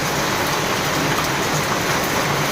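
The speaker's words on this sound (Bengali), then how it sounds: "যে ভীষণ বৃষ্টি পড়ছে" Heavy rain pours down steadily, a dense continuous hiss close by with no let-up and no voices.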